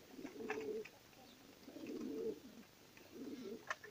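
Pigeons coo softly in three short rounds, close by and quiet, with a faint flutter of higher chirps between them.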